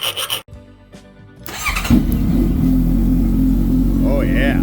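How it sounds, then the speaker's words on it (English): A 2015 Honda CBR650F motorcycle engine starts after a brief click and a pause, then settles into a loud, steady, close idle with a slight rise in revs, and a faint whine near the end. "it sounds like a regular 600cc sport bike with some attitude"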